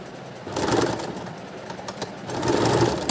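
A sewing machine runs in short bursts while a blouse is stitched, each burst of steady mechanical whirring close by and moderately loud, with a pause between them and no voices.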